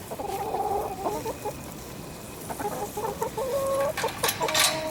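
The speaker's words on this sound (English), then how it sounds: "Let's go check on the hens." Hens clucking inside a hen house, with several birds giving repeated short, nasal calls that rise and fall close by throughout, over a steady farmyard background.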